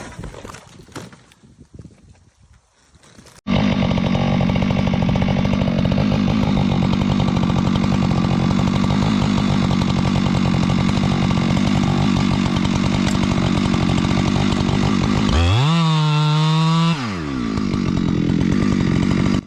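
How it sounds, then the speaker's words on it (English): A chainsaw roars into a tree trunk, loud and close, holding a steady high-revving whine through a long cut, then briefly dropping and swooping in pitch before revving up again. Some faint handling noises come before it starts. "The chainsaw is in full command, roaring with power, its spinning blades slicing deep into the trunk with ruthless precision."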